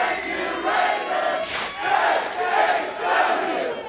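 A wrestling crowd at a Southern Honor Wrestling anniversary show, on their feet and roaring steadily, with broad surging cheers and shouts swelling in waves for the whole span.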